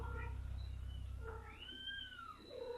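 A cat named Cashmere meows repeatedly at an adoption, giving short rising and falling cries over a low steady hum. The meows sound faint and somewhat distant.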